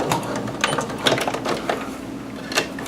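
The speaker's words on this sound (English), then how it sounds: "So I'll stitch 5/8 up to the notch" A sewing machine stitches fabric, a rapid mechanical clatter of needle strokes running steadily and close, with a few uneven bursts and clicks as the seam is sewn.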